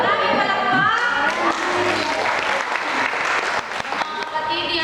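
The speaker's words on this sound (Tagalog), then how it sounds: "Maraming palakpak!" A chapel congregation bursts into applause during a pilgrimage service, dense sustained clapping filling the room with voices and cheers mixed through it, loud and close throughout.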